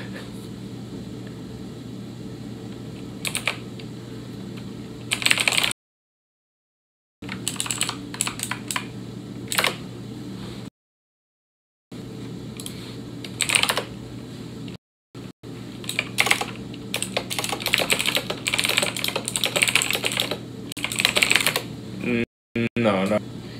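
Someone types on a computer keyboard in bursts of fast close clicks with several silent gaps, over steady background hum.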